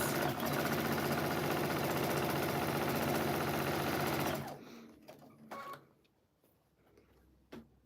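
A sewing machine runs fast and steady while stitching quilt fabric, a loud continuous mechanical whir for about four seconds before it stops abruptly, followed by a few faint handling clicks and rustles.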